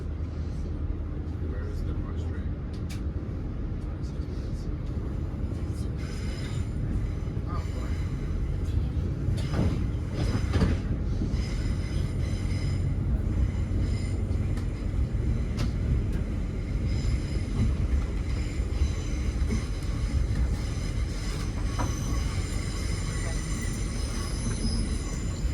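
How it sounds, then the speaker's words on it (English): A train departing Bristol Temple Meads station, heard from on board: steady loud rumble of wheels and running gear with occasional squeals and clanks, rising into continuous rolling noise. "And we are now departing Bristol Temple Meads."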